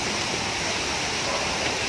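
Rushing water of the Tala River in Bailen, Cavite roars in a steady, dense wash of noise, close and loud, with no pauses.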